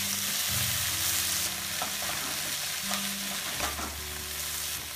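Vegetables for Sri Lankan kottu frying in a pan, a close, constant sizzle under low rumbling hums, with stirring clatters and scrapes now and then.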